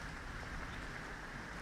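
Rain in the space game Elite Dangerous, a steady, dense hiss of falling drops with no breaks, even and moderately quiet.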